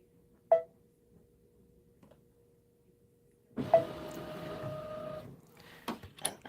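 An embroidery machine's carriage moving back into position while stitching a quilt block, a steady mechanical whirring hum lasting a couple of seconds, preceded and followed by brief clicks and clacks, near and clear with no talk.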